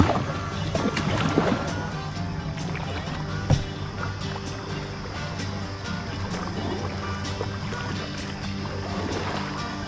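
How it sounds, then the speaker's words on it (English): A kayak scraping and bumping through shallow riffles on Cedar Creek in Indiana, with a steady wash of flowing water, a sharp knock near the middle and scattered paddle splashes, close and continuous without talk. "Once we got past those few riffles, I got a pretty good deep channel here."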